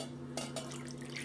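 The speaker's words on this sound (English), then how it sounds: "I'm just going to go ahead and pour this in another" Turkey injection marinade poured from one container into another, a faint short splash and trickle of liquid over a steady low hum, with no talking.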